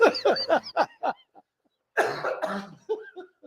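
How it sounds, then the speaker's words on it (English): A person coughs repeatedly close up, a quick string of harsh coughs, a short pause, then another rough burst trailing off. "You got me coughing already."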